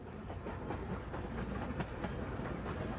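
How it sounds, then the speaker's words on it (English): Newfoundland Railway train around 1975 rolling along level track beside the seashore, a steady rumbling drone with regular clickety-clack beats from the wheels, heard from on board at moderate loudness. "we sit back to enjoy the scenery as the train rolls along the seashore"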